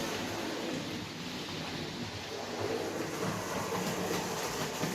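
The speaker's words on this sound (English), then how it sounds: "It's going to come up the branch with a short branch freight." Steady rumbling rush of a model Great Western freight train running along track, constant and even with faint rhythmic clicking, no voices.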